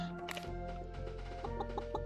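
Video game chickens cluck in short, soft repeated bursts over a steady tonal music bed, fairly quiet and close.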